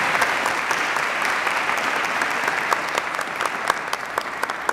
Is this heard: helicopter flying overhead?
no